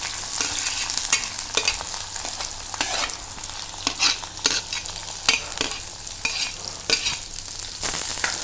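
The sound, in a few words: onions frying in hot mustard oil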